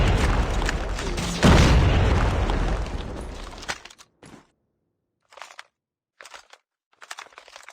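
A grenade blast in the mobile shooter Call of Duty Mobile bursts loud and deep, its rumble decaying over a few seconds before short bursts of gunfire and game sounds follow.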